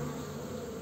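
Honey bees hum in a steady, close, dense buzz while a colony is moved from a Langstroth hive into a ten-frame horizontal hive.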